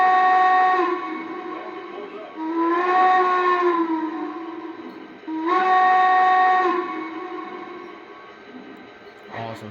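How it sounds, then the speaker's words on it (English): An early-2000s model train's steam whistle sounds three long, mournful blasts with short gaps, loud and close, ending with a brief click. "Listen to that whistle again."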